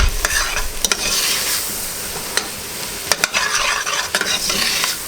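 Browned meat stirred with flour in a hot pan, a steady scraping stir under continuous sizzle, with sharper clicks of a utensil against the pan at irregular intervals, close and moderately loud.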